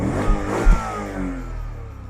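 A BMW Z8 engine revs up close by, a deep throaty roar that swells in two quick blips and then settles into a steady, rumbling idle.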